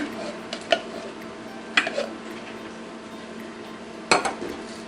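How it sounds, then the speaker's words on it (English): A spoon stirs a bean mixture with tomato sauce in a pot, making a few sparse metallic clinks and scrapes against the pot over a low steady background. "we're going to stir this together"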